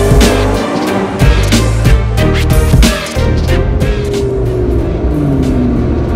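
McLaren 650S sports car on the move, its engine droning loudly and steadily from inside the cabin, rising and dipping in pitch as it pulls along the road.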